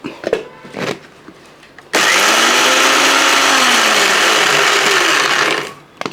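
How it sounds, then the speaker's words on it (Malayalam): A mixer grinder with a small jar grinds fried chillies, starting abruptly with a loud continuous whirring roar for several seconds before cutting off, after a few light clatters. "ഇതൊന്ന് പൊടിച്ചെടുക്കാം"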